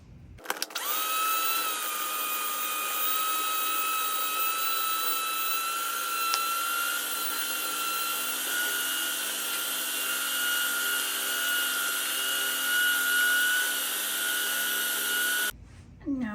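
An electric mixer whirs steadily and fairly loudly while beating cheesecake filling with whipped topping, holding one continuous tone from start to finish before cutting off near the end.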